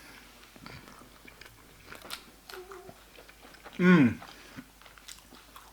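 A single crunchy bite into chicken boneless balti is followed by brief chewing, close to the microphone. A short appreciative hum rises over the bite, and faint background noise and murmuring surround it.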